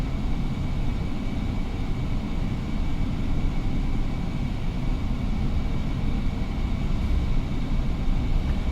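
Airbus A321neo taxiing at Munich airport in winter, heard as a steady, continuous low engine rumble with a broad airy hiss that stays even throughout, with no talking.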